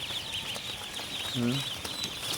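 Itik Pinas ducks on a farm give a brief call partway through, over a busy outdoor background of chirping birds and other farm noise.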